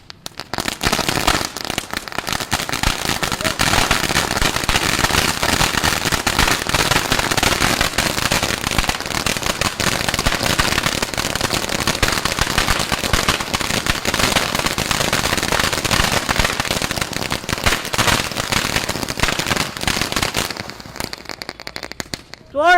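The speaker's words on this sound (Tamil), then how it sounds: "அடுத்து மாண்டாவில இருந்து கல்யாண வெடிப்பா, சும்மா சட சட சடன்னு தெரிவிக்க போகுதுப்பா" Wedding firecrackers crackle in a dense, loud, continuous rapid-fire string for about twenty seconds, then die away.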